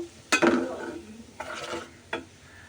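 Mustard paste frying in a pan for a Bengali pabda fish curry: three bursts of spatula stirring and scraping with a soft sizzle between them, close by and without talk.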